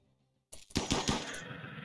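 Gunfire from the RimWorld video game erupts after half a second of near silence, a rapid burst of loud overlapping shots followed by a sustained noisy tail.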